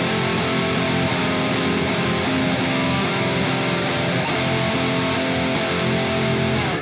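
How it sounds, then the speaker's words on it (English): Loud electric guitar under heavy distortion rings out widely spaced chord voicings, a sustained and steady stream of chords with no talk over it. "Where even under a ton of distortion, those chord values are still very clear."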